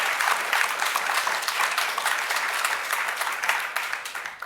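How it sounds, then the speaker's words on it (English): Steady round of applause from a conference audience at World Water Week, dense and fairly loud, filling the whole stretch without a break. "a round of applause for Hajar"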